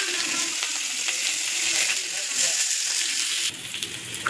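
Onion, curry leaves, chana dal, dried red chilli, mustard and cumin sizzle steadily in hot oil in a pan for banana stem stir-fry, a loud continuous frying hiss that drops off slightly near the end.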